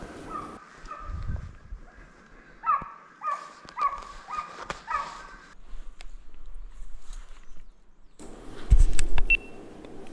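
Hunting dogs bark during a driven hunt for big game in a French forest, a run of distant barks and yelps, with a louder rustling burst near the end.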